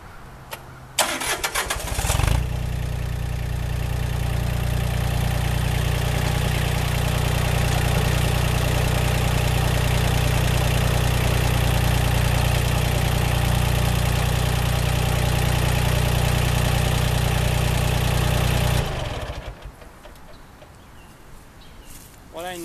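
A farm tractor, used for hauling limbs for firewood, starts and then idles steadily and loudly with a deep, even rumble for most of the stretch before cutting off near the end.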